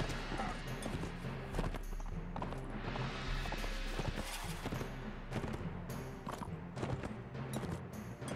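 Horse hooves clatter in rapid galloping rhythm during a medieval battle in the video game Mount & Blade, loud and close amid combat noise, with a voice talking over it.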